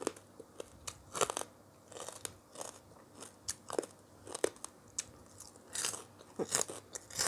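Loud, close crunching and biting on crispy fried chicken and crackly pork rind, with irregular bursts of chewing at a steady pace and no talk.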